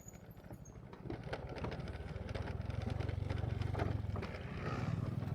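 New boat engine running at a floating bridge, a low rumbling drone that builds steadily and stays near and moderately loud, with faint knocks and rattles over it.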